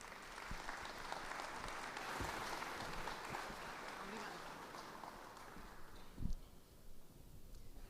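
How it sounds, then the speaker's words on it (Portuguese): An audience in a full conference hall applauds a speaker being invited onto the stage, a steady wash of clapping that gradually thins out, with a low bump and some background murmur toward the end. "Uma salva de palmas para ela, por favor."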